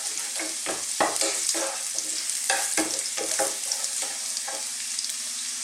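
Garlic frying in a hot pan with a steady broadband sizzle, broken by a series of sharper scrapes and clatters as it is stirred, close and fairly loud with no talking.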